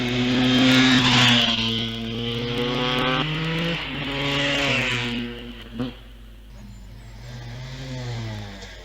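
A KTM 250 motorcycle runs at the Wiscombe Park hillclimb with a loud, high two-stroke whine that climbs and falls through several gear changes, then fades into the distance.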